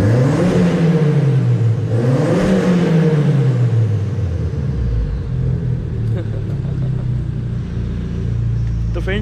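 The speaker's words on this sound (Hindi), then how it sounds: "इतना ज़्यादा ये रोर कर रही है गाड़ी जो है।" A modified Skoda Octavia VRS roars in a basement car park. The exhaust is loud and close, revving up and down twice before settling into a heavy, rumbling idle that echoes.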